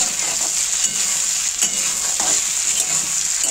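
Fish curry with softened tomatoes and fish curry masala is stirred in a pan, making continuous loud sizzling and bubbling close by, with soft scraping strokes and no voices.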